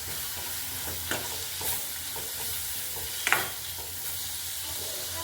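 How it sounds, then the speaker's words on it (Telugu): Soaked dried prawns and their water are stirred into a curry frying with onions, giving a steady sizzle broken by a couple of louder spoon scrapes against the pan, close and without talk. "ఇప్పుడు ఇలా నీళ్ళంతా వంపేసుకొని కర్రీలో వేసుకోవాలి. ఇప్పుడు ఒకసారి తిప్పేసుకుందాం."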